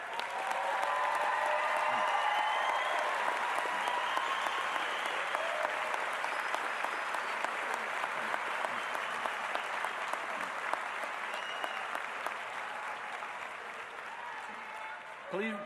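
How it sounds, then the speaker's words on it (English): Sustained applause from a large audience at a state college spring graduation ceremony, dense and steady clapping that holds for the whole stretch and tapers only slightly near the end. "would you hold your applause until I introduce all of the members of the Clay County School District delegation"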